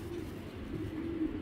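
Young Giribaz pigeons cooing in a low, continuous, soft murmur close by, with no voices over it.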